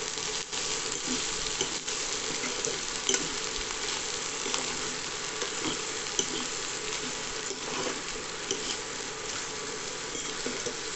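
Okra pieces coated in salt, turmeric and chili powder frying in a pan for a tamarind curry, giving a continuous moderate sizzle with occasional soft stirring clinks.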